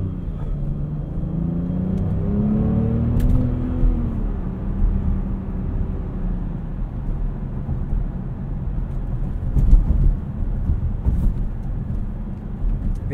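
A 2021 Jaguar F-PACE P400 engine hums steadily at low pitch throughout in comfort mode, a smooth cabin drone with slight rises in revs, no talking.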